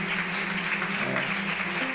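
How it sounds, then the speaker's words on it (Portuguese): Church congregation applause, dense and continuous, fills a short stretch at moderate volume without any speech over it. "Você pode dar um aplauso bem forte ao Senhor por isso?"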